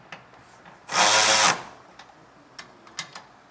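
An impact or power tool quickly snugs down 5/8-inch bolts on the slipper spring box of a Roadmaster Comfort Ride leaf spring kit on a 2015 Keystone Raptor trailer. It makes one loud half-second burst, followed by faint clicks and taps.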